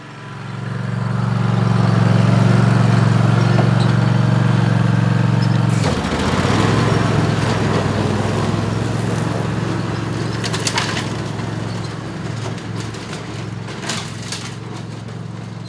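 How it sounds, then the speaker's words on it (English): A petrol lawn mower cuts grass by hand in a vegetable garden setting, its loud steady engine drone running nearby throughout, with a brief bump and crunch partway as blades hit thicker growth. "I have to mow manually, so that's what I'm gonna do now."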